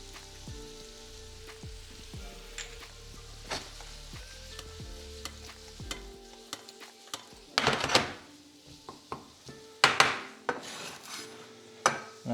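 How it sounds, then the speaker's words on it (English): Onions frying in a pan as salt is added, a steady low sizzle carrying scattered clinks and scrapes of a utensil against the pan, with a few louder stirring bursts near the end. "Now that the onions are starting to cook down a bit, I'm just going to add some salt into here."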